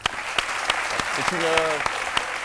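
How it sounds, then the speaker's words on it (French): French daytime TV studio audience applauding, a loud, even clatter of many hands with regular sharper claps standing out, and a brief voice rising over it partway through. "Je voudrais qu'on applaudisse très fort"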